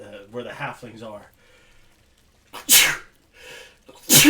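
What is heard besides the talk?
sneeze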